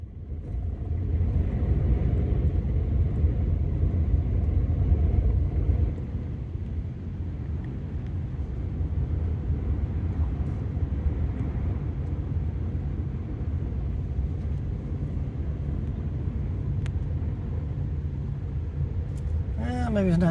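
A camper van cruises along a Texas beach, its engine and tyres giving a steady low rumble that eases slightly after a few seconds and then holds on, with a short sound near the end.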